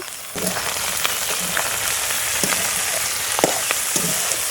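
Eggplant pieces fry in oil in a pan, a steady close sizzle broken by faint clinks and scrapes of stirring, no speech.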